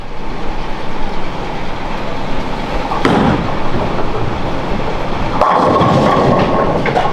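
A bowling ball rolls down a lane in a one-game challenge match and crashes into the pins. A steady, loud rumble runs throughout, broken by a sharp impact near the middle and another clatter toward the end.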